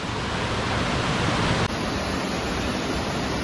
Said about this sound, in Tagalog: Yan ang kanilang falls